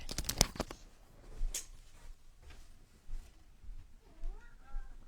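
A pet cat meows to be let out, several short rising calls spread across a quiet room, preceded by a burst of sharp shuffling and tapping noises near the start.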